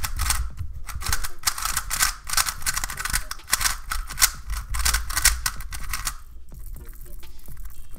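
A Dayan Xiangyun speed cube, tight out of the box, is turned in quick bursts, giving close, dense clicking and clacking that runs almost continuously, then softens into a few lighter turns near the end.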